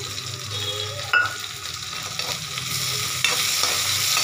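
Garlic, onion and ginger frying in a pan with cumin for a vegetable dish, a steady close sizzle with spoon-stirring scrapes and a couple of sharper clinks, no voices.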